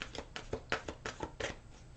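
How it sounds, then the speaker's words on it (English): A tarot deck is shuffled by hand, with a rapid run of about eight crisp riffling slaps, close and clear with no talk. "One more shuffle here for Scorpios for December."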